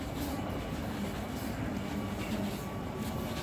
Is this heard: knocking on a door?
no